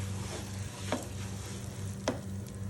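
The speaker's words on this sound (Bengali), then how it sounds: "5 মিনিট ফ্রাই করব" Spice masala frying in a pan, a soft steady sizzle with two brief spatula scrapes and a low hum underneath, fairly quiet and without talk.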